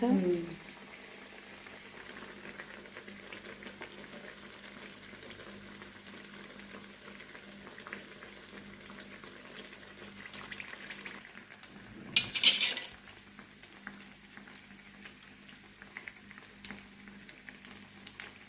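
Sweet corn vadas deep-frying in hot oil give a soft, continuous bubbling sizzle, fairly faint. Occasional utensil clinks come through, with a louder clatter of metal against the pan partway through.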